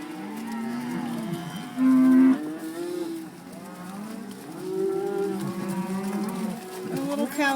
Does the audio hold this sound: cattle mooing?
yes